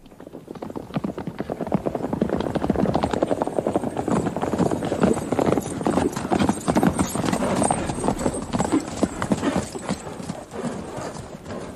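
A horse galloping through a dark forest in an audio drama, with fast, rhythmic hoofbeats continuing for several seconds and growing louder as the rider approaches.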